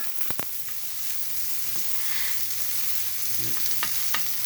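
Pizza toppings fry in olive oil over very high heat, a steady bright sizzle with a few sharp clicks and scrapes as they are stirred around the pan.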